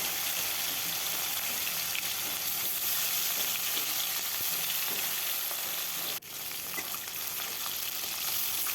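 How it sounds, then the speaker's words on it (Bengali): Tangra fish fry in hot mustard oil in a kadai, giving a loud, close, steady hiss and crackle that drops off sharply for a moment near the end before the sizzle resumes slightly lower. "তেলটা গরম হলে মাছগুলো আমি ভেজে নেব।"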